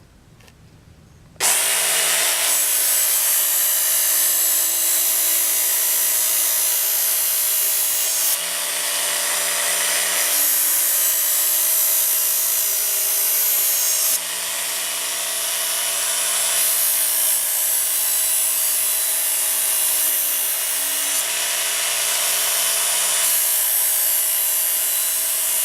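A knife blade being sharpened on a Work Sharp Knife and Tool Sharpener, a powered belt sharpener, giving a loud steady grinding hiss that runs almost without a break for several passes, with a few small shifts in pitch and level.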